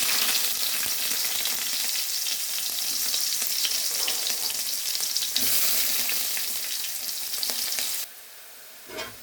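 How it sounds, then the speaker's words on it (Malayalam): Chopped shallots frying in oil with mustard seeds and curry leaves, a steady close sizzle that carries on almost without pause before dropping away near the end, with no voices. "ഉള്ളിയെല്ലാം ഏകദേശം മൂത്തിട്ടുണ്ട്. കുറച്ചും കൂടെ മൂത്താൽ മതി."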